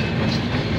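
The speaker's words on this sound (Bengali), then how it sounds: "এইটা বিষ্ণুপুর রেল স্টেশন থেকে ট্রেন ছেড়ে গেল।" A train pulls away from Bishnupur railway station with a steady, broad rumble and rattle of rolling wagons, close and continuous, with no voices.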